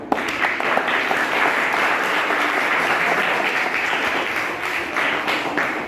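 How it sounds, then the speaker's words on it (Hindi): Sustained applause from a large audience at a public event in Bijapur, Karnataka, honouring someone's good work, with dense, steady clapping continuing at even loudness throughout and no voices heard over it. "हम सब तालियां बजाएं।"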